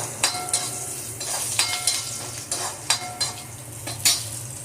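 Garlic and green chilies sizzle in a pan while a spatula stirs and scrapes in repeated strokes beneath a constant frying hiss.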